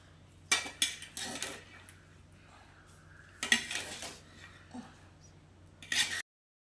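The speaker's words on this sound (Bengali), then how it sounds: "ছোটো চামচ হবে, এটা নিয়ে নাড়ে" Spoon clinking and scraping against a pot of biryani, several sharp metallic bursts in an irregular rhythm, close and fairly loud against a quiet kitchen background.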